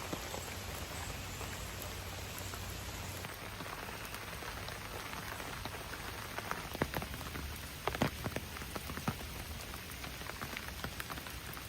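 Steady rain falls outdoors in the early morning at a rural home in America, a dense, continuous patter on surfaces with occasional louder drops, close and even throughout with no voices.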